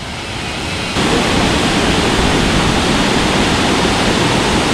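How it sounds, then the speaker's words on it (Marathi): Panval waterfall pours in a loud, steady broadband roar of rushing water. The roar jumps up in level after about a second and then holds constant, with no voices. "पानवलचा धबधबा।"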